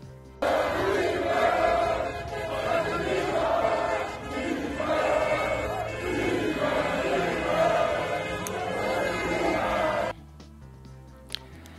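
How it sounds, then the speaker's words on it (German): Werder Bremen fans celebrating survival in the Bremen city centre, a dense crowd cheering and chanting in rising and falling waves for about ten seconds before the noise drops away. "In der Bremer Innenstadt war der Jubel nach dem Klassenerhalt natürlich groß."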